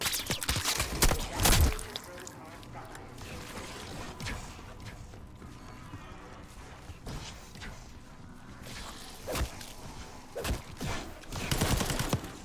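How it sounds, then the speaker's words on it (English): Gunfire in the Call of Duty Black Ops 6 campaign: bursts of shots come in scattered clusters over a low mechanical rumble, with a loud volley near the start and more shots toward the end. "You hearing gunfire?"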